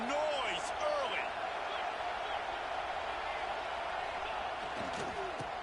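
Steady roar of a stadium crowd at an Auburn football game, a dense continuous wash of cheering with scattered shouts and a commentator's voice running over it throughout.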